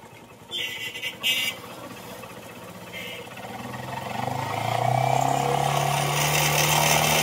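A Honda Shine BS3 motorcycle with a shorted regulator-rectifier unit starts with a couple of sharp bursts, then settles into a steady running engine whose revs gently rise toward the end.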